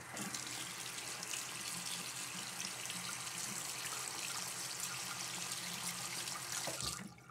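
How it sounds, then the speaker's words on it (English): A tap runs water to soak a double edge safety razor, a steady, fairly quiet stream splashing into a sink, close and continuous with no voices. "I'm just going to, you know, soak it with a little bit of water"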